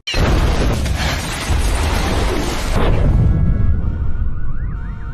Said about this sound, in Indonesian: Sebuah ledakan membuat keadaan semakin kritis